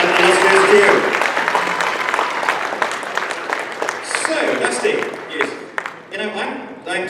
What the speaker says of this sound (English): one more huge round of applause